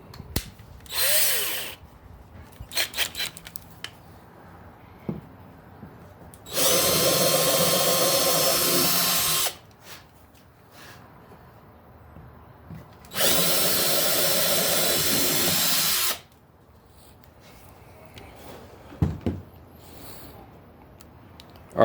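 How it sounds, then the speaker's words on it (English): A power drill with a small bit bores into a plastic kayak hull while mounting a stadium seat: a short whine near the start, then two long, steady, loud drilling runs of about three seconds each, with quieter handling noises between. "So you're going to want to use a real small drill bit."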